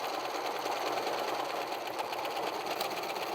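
Sewing machine running steadily on an apron, stitching in reverse and back and forth, a continuous close buzzing whir with no pauses and no talk.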